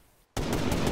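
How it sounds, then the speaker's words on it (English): Sudden loud grenade blast right beside the player in the military shooter ARMA 3, a sharp onset after near silence that rolls into a sustained, rumbling roar. "A grenade just went off beside me."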